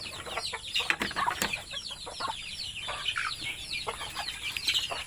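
Native chickens cluck in a busy flock, with overlapping short calls, occasional wing flaps and a rooster-like cry, steady and close throughout.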